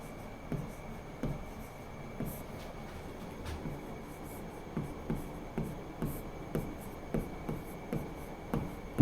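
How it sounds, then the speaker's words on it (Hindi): Chalk or pen writing a definition on a board during a biology lesson, heard as a regular series of short scratchy strokes, soft and steady, over a faint background hum. "डेफिनेशन लिखते हैं"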